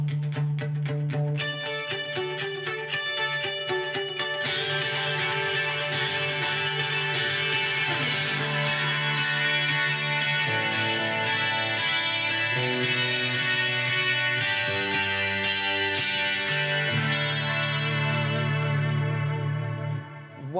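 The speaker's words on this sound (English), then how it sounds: "I'm going to add a delay in there. I've chose a multi-tap, which is my 4th delay." An electric guitar plays through a Blackstar ID:Core V3 amplifier with a multi-tap delay, repeating layered echoes trailing each note, producing a dense, shimmering wash of sound.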